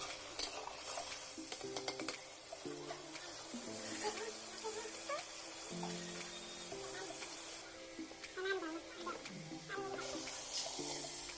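Potatoes are stirred into leftover spiced masala in a pan after fish is cooked, with a soft sizzle and intermittent scraping and clinking of a spoon against the pan, faint and close, under background noise.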